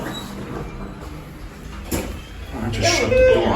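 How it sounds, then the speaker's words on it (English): An elevator's sliding door shutting on a busy Schindler 300A hydraulic elevator at FAO Schwarz in Rockefeller Center, a short rolling slide and thud followed by a bright chime, with people talking nearby. "I just shut the door on someone."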